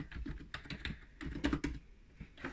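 Rapid clacking keystrokes on a new Red Dragon computer keyboard, close and fairly loud, with irregular bursts and brief pauses over about two and a half seconds.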